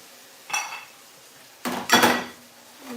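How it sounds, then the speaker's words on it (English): A spoon clanks against a metal pot while stirring jackfruit pot roast sauce made with red wine and hibiscus juice, giving three distinct knocks and scrapes, close and fairly loud, over quiet background. "while we'll give this a stir"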